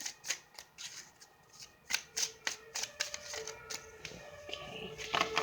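Tarot cards shuffled by hand close up, a series of crisp riffling snaps and soft taps with uneven rhythm, no talking.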